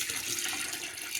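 Water poured from a pitcher into a washing machine drum, heard as a steady, close hissing splash that runs without a break.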